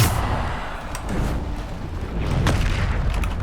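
A Bombarda spell blast from Hogwarts Legacy, a steady rumbling boom with a sharper burst partway through over continuous low-frequency game noise.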